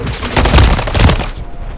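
A loud, close burst of rapid gunfire in Call of Duty: Modern Warfare 3, two heavy volleys of shots in quick succession that fade out within about two seconds.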